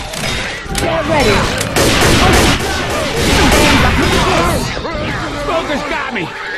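Rapid gunfire from the zombie shooter Left 4 Dead 2 during a 4v4 Dark Carnival match, dense bursts of shots and impacts crackling throughout, loud and close, with players talking over the din.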